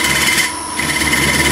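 A wood lathe turning a segmented bowl's plug flat, a loud continuous whirring drone with a dense grinding hiss from the cutting tool, dipping briefly in the middle before resuming at full strength.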